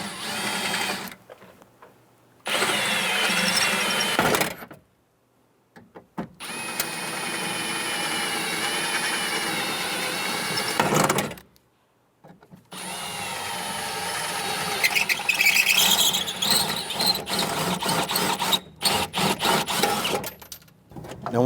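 A power drill whines in several long bursts separated by short pauses, loud and close, with the pitch shifting as it bites through metal rivets holding a rear power window regulator in a Ford Explorer.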